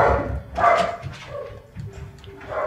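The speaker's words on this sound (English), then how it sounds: "Fucking dog, dude. Who are you barking at fucking 10 o'clock at night?" A dog barks at night around ten o'clock, a few sharp barks at close range heard indoors amid background noise.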